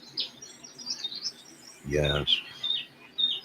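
Small birds chirp and tweet outside in short, scattered calls on a calm Saturday morning, with a brief spoken word partway through.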